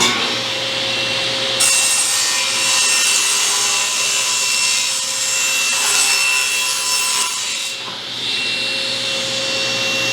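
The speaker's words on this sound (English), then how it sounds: "I'm going to cut it to exactly 14, and then we'll shave just a hair off of it." A power saw cuts steadily through lumber core plywood with laminate finish, making a loud, continuous whining rasp that holds for about ten seconds with a brief dip near the end.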